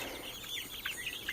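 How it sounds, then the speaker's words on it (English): Young chickens, some about six weeks old, clucking softly in a farmstead pen, with faint scattered chirps and clucks over a quiet outdoor background. "these chickens, well, the younger ones are 6 weeks old."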